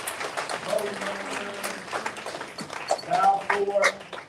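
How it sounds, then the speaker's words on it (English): Audience clapping for the teachers at a summer academy showcase, a moderate patter of hands heard under a voice talking over it. "please give a round of applause for all of our teachers"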